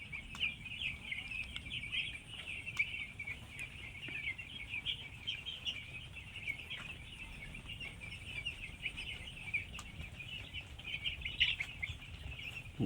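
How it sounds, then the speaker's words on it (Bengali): About 1,700 six-day-old broiler chicks in a partitioned farm shed keep up a continuous, fairly faint chorus of high peeping and chirping over low background hum, with no talking. "আজকে 6 দিন বয়স পাখিটা।"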